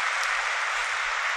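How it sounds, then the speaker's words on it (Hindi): An audience at a spiritual gathering claps in a brief, dense, even burst of applause with no pauses. "ताली बजाओ"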